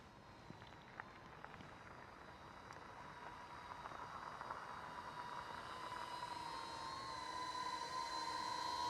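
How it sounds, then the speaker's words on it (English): A DJI drone climbs away and flies back, its high propeller whine holding a steady tone and growing slightly louder over a low outdoor hiss, with no voices. "The drone is gonna do a 10-meter droney shot, which is gonna go up, and then it's gonna come right back down to me."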